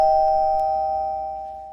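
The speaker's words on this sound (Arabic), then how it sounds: "وصلت إلهام للباب اللي جوه الفيلا وضغطت على الجرس" A doorbell at a villa's inner door sounds one clear, sustained electronic tone that rings steadily and then slowly fades, heard alone.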